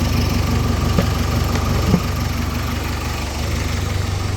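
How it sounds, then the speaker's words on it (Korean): The diesel engine of a 2013 Hyundai Mighty cargo truck idles steadily with a low, even rumble throughout, close by, with a couple of faint knocks. "엔진 소리도 들어보시면 굉장히 깔끔하고요"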